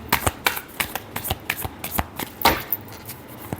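A deck of tarot cards is shuffled by hand, producing a quick series of crisp riffling snaps and taps at close range, roughly a dozen bursts in an uneven rhythm.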